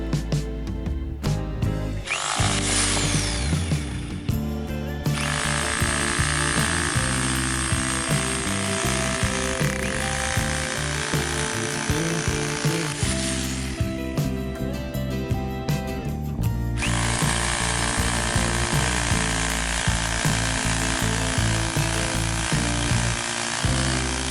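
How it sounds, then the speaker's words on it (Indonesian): An INGCO RH10508 rotary hammer in concrete chiseling mode, bit not rotating, hammers loudly in two long bursts with a pause between, a dense continuous pounding rattle close up. "sekarang kita tes untuk mode penghancuran beton. Jadi mata bornya ini nggak berputar"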